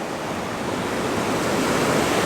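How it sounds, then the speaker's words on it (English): Ocean waves breaking on a wet sand beach on the Spanish coast, a loud, continuous wash of surf with a broad roar and no voices. "The waves are coming in too quickly."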